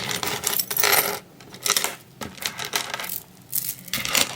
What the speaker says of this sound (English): I'm just straightening up my bracelets and shit.